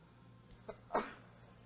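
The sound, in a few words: sneeze into elbow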